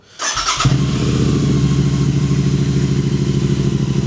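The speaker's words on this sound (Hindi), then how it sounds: "तो पहले मैं आपको एक बार इसका एग्जॉस्ट प्री नोट सुना देता हूँ" A Royal Enfield Interceptor 650 fitted with a Red Rooster exhaust and the stock air filter fires up after a short crank, then idles close by with a loud, even, throbbing exhaust thump.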